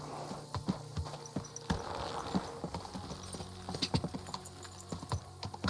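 Horse hooves clip-clop in a steady walking rhythm, fairly close, in the medieval video game Kingdom Come: Deliverance 2, with a few sharper hoof strikes and a faint whinny beneath.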